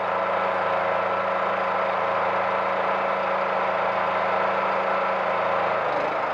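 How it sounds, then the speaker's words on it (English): A Bridgemaster bridge inspection truck's engine runs steadily at a loud, even idle, its note shifting in power near the end as hydraulic work begins. "You can hear the power on the engine change."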